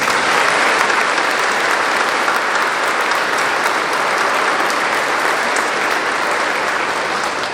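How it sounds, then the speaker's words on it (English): Sustained, loud applause from a large crowd at a community college graduation ceremony, steady and dense throughout with no letup. "Can we please give them a round of applause?"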